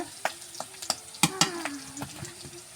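Onions and chilies fry in a pan with a steady low sizzle, broken by several sharp scrapes and clicks of a spatula stirring them.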